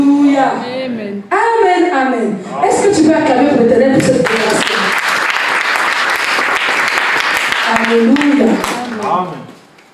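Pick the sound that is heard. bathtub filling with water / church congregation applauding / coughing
church congregation applauding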